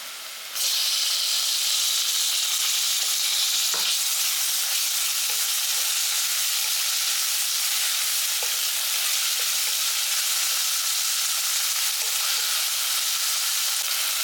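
Tomatoes and onions sauté in oil in a pan with a loud, continuous hiss and sizzle that starts abruptly and holds steady, broken by a few faint scrapes of a stirring spoon.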